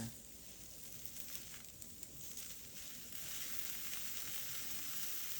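A5 Wagyu sears on a Zojirushi indoor grill with a steady, close sizzle and crackle of fat. It runs continuously and swells slightly louder toward the end, with no talk.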